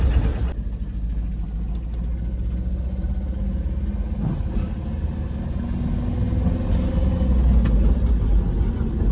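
A four-wheeler car's engine hums steadily while driving, a low continuous rumble with road noise that rises slightly toward the end, no voices heard.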